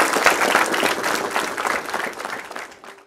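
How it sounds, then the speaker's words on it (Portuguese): Church congregation at a wedding ceremony applauding to welcome the newlyweds: a moderate burst of many hands clapping that gradually thins and fades out at the end. "Vamos acolher o novo casal com uma salva de palmas."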